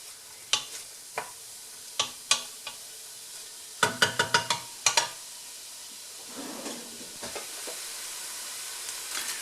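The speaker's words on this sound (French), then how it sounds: "il y a les oignons qui commencent à monter un petit peu en température. Ils dégagent bien de l'eau." Chopped onions sweating in a pot at the start of a homemade tomato sauce, giving a quiet steady sizzle with scattered clicks and knocks of a spoon stirring, including a quick cluster of clacks midway.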